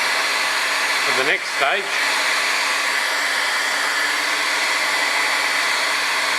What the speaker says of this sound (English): And with a powerful heat gun, this one is what is it, 2000 watts